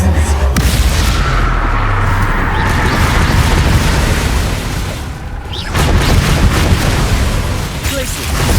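An Incendio fire spell erupts in Hogwarts Legacy on PS5, a loud, sustained booming blast with rumbling low end that dips briefly then surges again, with dense battle noise throughout and a spoken incantation at the start.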